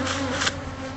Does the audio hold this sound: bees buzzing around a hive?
yes